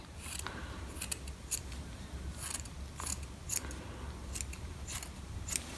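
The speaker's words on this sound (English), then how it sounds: "use your scissors and do some trimming" Repeated crisp snips of scissors trimming a yarn pom-pom, close up and fairly quiet, in irregular bursts against a low steady hum.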